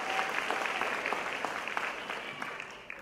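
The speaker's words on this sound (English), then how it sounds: "Please give her a round of applause" An audience at the Martha's Vineyard African American Film Festival applauds, a dense patter of many hands clapping at moderate distance that fades slightly toward the end.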